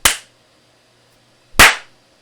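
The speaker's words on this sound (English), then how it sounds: "we gotta do the clap thing" Two sharp, loud hand claps ring out about a second and a half apart in a quiet room, each a crisp close snap that decays fast, used to sync podcast recordings; no one speaks.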